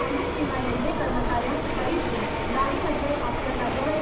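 A Mumbai local train in a train simulator video game brakes while entering Bandra station, giving a steady, dense rumble of wheels and rail with a faint high whine over it. The sound is continuous and holds at an even loudness throughout.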